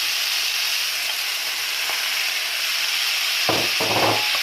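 Eggs and shrimp frying together in a pan for Cantonese-style shrimp fried rice, a steady close sizzle throughout with a couple of short scraping stirs near the end.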